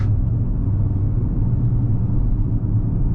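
A 2025 Acura MDX engine hums at moderate throttle through a run of upshifts, heard as a low, steady cabin rumble with slight variation and no distinct revving peaks.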